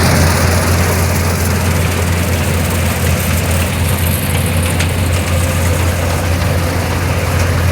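A farm tractor runs in a field during a chickpea crop watering, its engine holding a loud, low, steady idle-like rumble for several seconds with no speech over it.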